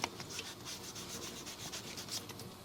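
A metal divot tool rubbed against 2000 grit sandpaper, a soft rapid back-and-forth scratching, close but faint, with no voices.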